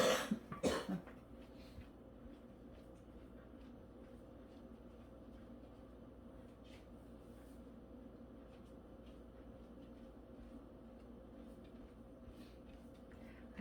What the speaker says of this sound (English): I do apologize for the sniffles and the little coughs